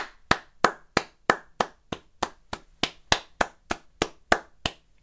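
A single person claps hands about fifteen times in a steady, fairly quick rhythm, each clap sharp and close, with a quiet room behind and no talking.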